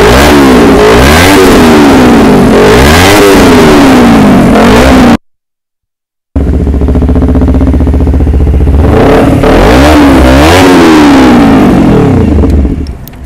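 A 2021 Honda CBR250RR SP twin-cylinder sport motorcycle with an aftermarket exhaust, loud and close, revving in repeated rising and falling sweeps, cutting out briefly, then revving hard again.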